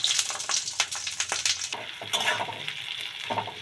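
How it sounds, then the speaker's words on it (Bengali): Onions going into hot oil in a wok and starting to fry for crisp fried onions, a close, steady crackling sizzle with bursts of spatter and scraping throughout. "তো তেলটাতে পেঁয়াজ দিয়ে দিলাম হ্যাঁ"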